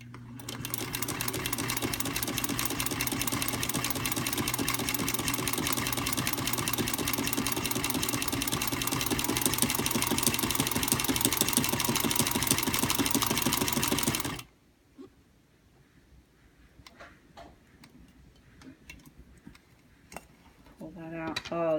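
Sewing machine stitching with a Zig Zagger attachment on blue cams, a loud rapid mechanical chatter running steadily for about fourteen seconds, then stopping abruptly, leaving quiet handling noises.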